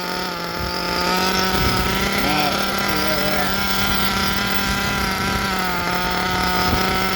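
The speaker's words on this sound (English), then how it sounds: "You hear that idle coming up as the engine heats up?" A nitro model engine idles steadily through a break-in run, its buzzing drone rising slightly as it warms, close and loud, with someone talking briefly over it.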